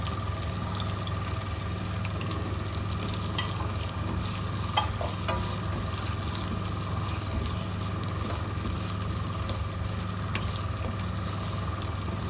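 Onions fry with a steady, even sizzle in a pan of spices and black pepper for an arvi chicken curry, with occasional faint stirring scrapes and no talking.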